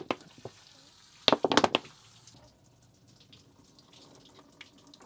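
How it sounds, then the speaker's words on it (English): Milky water drains out of a freshly repotted windswept elm bonsai pot: a few splashy bursts early on, then a faint, steady trickle, with no talk. "We got that milky water coming out right now."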